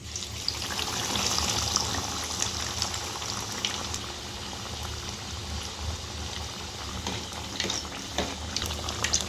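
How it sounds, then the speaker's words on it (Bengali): Chicken cutlets deep-frying in hot white oil give a steady, dense sizzle and bubbling that stays at an even loudness, close up, with no voices. "তেলটা গরম হয়ে গেছে এবার আমি একে একে ভেজে নেবো"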